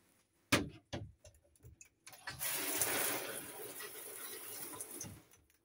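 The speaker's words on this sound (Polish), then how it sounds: "Umywalka, woda ciepła, woda zimna i również natrysk." Water gushes from a bathroom sink tap after a few knocks and clicks of handling the fixture, a steady hissing flow for about three seconds that then tapers off.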